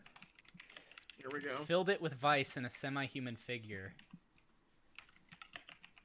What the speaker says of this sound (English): I can't even type with this headset on